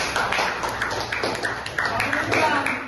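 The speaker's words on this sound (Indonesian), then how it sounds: "Tepuk tangan dulu buat Mbak Dara." A small group claps in scattered, uneven rhythm for a few seconds, with speech mixed in; indoors and fairly close.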